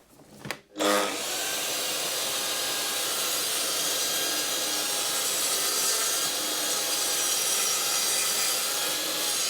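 A saw cuts a wooden jig to size, a steady, continuous rasping whine that starts after a short knock and carries on evenly, close and fairly loud.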